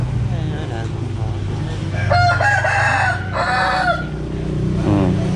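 On a rural Vietnamese homestead, chickens cluck and a rooster crows loudly twice in drawn-out calls, close by over a steady low background hum.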